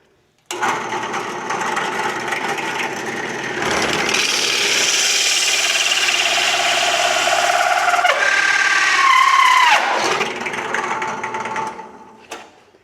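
Lathe spindle turning at about 930 rpm as a tool cuts a plastic shim for a Chinese mini excavator, a steady loud grinding whir that shifts pitch midway and winds down at the end.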